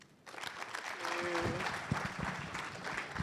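Audience applause at the close of a formal report launch event in Ghana, a steady broadband clapping wash from a hall crowd with a brief voice or tone mixed in near the middle.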